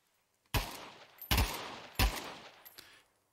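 Three loud AK rifle shots fired in a virtual reality game on a Quest 2, spaced less than a second apart, each a sharp crack with a short fading tail.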